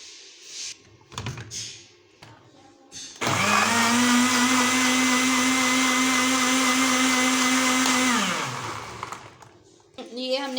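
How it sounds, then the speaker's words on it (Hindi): A kitchen blender whirs loud and steady for about five seconds while blending Oreo juice, then winds down, with someone talking briefly before and after. "तो अब इसको हम ब्लेंड करते हैं।"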